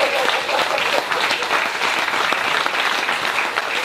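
Church congregation applauding during a French-language worship service in Taravao, French Polynesia, a steady dense wash of clapping sustained from start to finish with no gaps.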